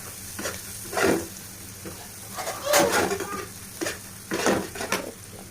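Spiced Maggi noodles stirred in a pan with turmeric, chili powder and salt, giving close, scraping spoon strokes in several short bursts over a soft sizzle.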